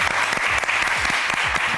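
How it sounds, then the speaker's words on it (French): A television talent show audience breaks into loud, continuous applause for a contestant, dense clapping filling the whole stretch with no voices on top. "on l'applaudit très très fort"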